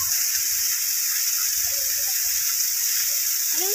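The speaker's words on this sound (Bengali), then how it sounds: "এখানে রাস্তায় রাস্তায় কিন্তু ঝর্ণার জল।" Waterfall water pouring down beside a mountain road in Arunachal, a steady broad rushing hiss that stays constant throughout, with faint low thumps underneath.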